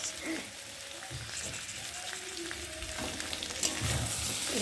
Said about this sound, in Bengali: এখন চিংড়ি মাছগুলো ঢেলে দেবো অল্প চিংড়ি মাছ